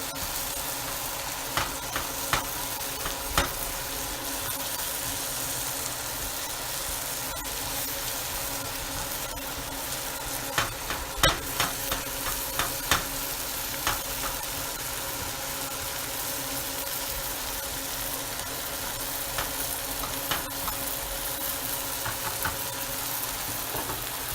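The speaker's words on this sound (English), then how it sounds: "Take your beef. Give it a stir." Beef frying and being stirred in a pan, a quiet even sizzle broken by scattered clicks and scrapes of the utensil against the pan, close and without talk.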